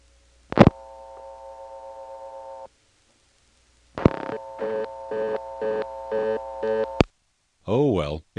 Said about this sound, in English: let's try dialing 39 and then 0